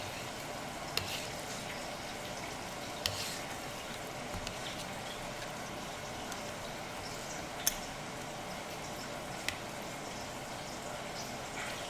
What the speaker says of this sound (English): Can you guys hear the pork bones sizzling already?